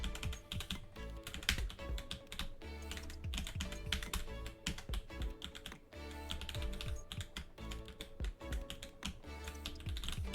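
Fast, dense keyboard clatter from a computer keyboard used to play Genshin Impact, rapid key taps and presses running continuously and close, with no talk.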